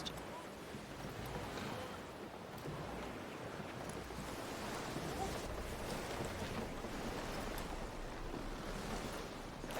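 Ocean waves and wind in the pirate video game Assassin's Creed Black Flag Resynced, a steady broad wash of surf and gusting air filling the whole stretch, fairly faint and even.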